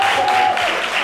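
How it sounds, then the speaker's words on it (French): A studio audience at a live TV show featuring a Zouglou band breaks into brief, loud, close clapping that lasts only a moment. "Applaudissez pour elle."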